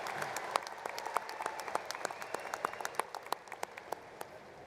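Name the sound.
commencement audience applauding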